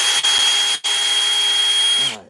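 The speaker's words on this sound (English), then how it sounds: "This is what Lori Keller called a giant drill" A large drill used for chainsaw-style wood carving of morel mushroom sculptures runs with a loud, steady, high-pitched whine, briefly dipping twice, then winding down to a stop near the end.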